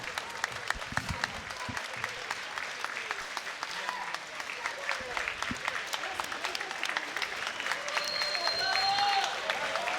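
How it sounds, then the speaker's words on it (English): A crowd at a Karate Combat fight event claps steadily, the applause building slightly toward the end, with some scattered voices mixed in. "Crowd showing their appreciation, getting warmed up here."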